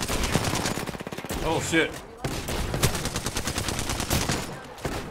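Rapid automatic gunfire from the shooter video game Apex Legends rattles in dense bursts, loud and close, with a brief pause in the middle before the firing resumes, and a player's short exclamation cuts in over the shots.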